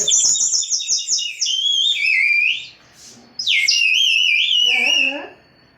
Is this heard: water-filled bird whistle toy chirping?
yes